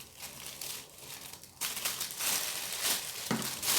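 Material is crumpled by hand to make an artificial bonfire, a steady close crinkling and crushing that grows louder partway through, with no talking.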